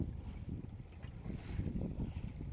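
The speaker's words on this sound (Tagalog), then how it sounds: "Medyo mahangin kasi." Wind buffets a small fishing boat out at sea during jigging, rumbling in low gusts against the microphone with faint water movement beneath.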